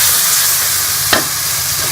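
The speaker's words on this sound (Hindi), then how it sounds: "अब इसके अंदर ये लहसुन अदरक का पेस्ट डाल के इसको भी इसके साथ ही ये मैं टमाटर का पेस्ट इसके अंदर डाल दूँगी" Garlic-ginger paste and tomato paste sizzle loudly in a hot pan while cooking sweet corn masala, a constant close hiss broken by one short scrape or stir near the middle, no speech.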